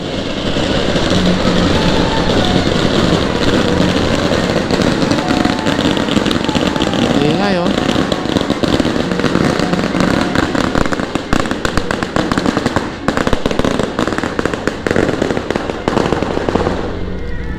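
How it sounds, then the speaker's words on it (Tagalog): Dense, continuous crackling bursts of firecrackers going off nearby in Taiwan, loud and sustained throughout with rapid overlapping pops and a steady background roar. "guys ang ingay nila nagpaputok sila"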